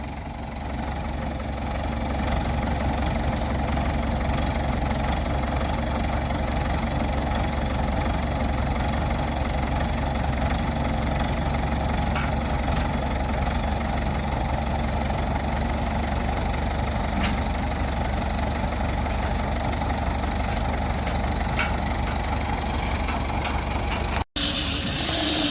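A round bale wrapper spins a hay bale while its engine idles, a steady close-up engine drone with faint rhythmic knocking that holds unbroken throughout, ending with a brief click near the end.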